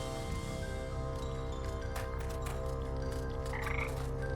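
A frog croaks in the video game Wytchwood, a low repeated throaty croak under a steady hum of ambient game music, with no one talking.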